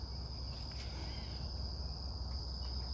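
A cricket chirps steadily in a high, continuous trill close by, out in the open where chickens roam beside a corn row chicken tractor, with no talking over it.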